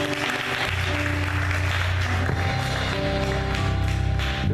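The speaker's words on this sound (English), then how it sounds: "Can we clap hands for them?" A congregation applauds a team at a church memorial service, steady dense clapping mixed with loud music and crowd noise throughout.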